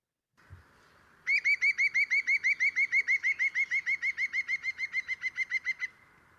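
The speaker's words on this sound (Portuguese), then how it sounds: "o pica-pau verde tem um som muito engraçado, que parece uma gargalhada" Green woodpecker giving its laughing call, a rapid run of about twenty loud, clear notes slightly falling in pitch, heard close and alone against a quiet background.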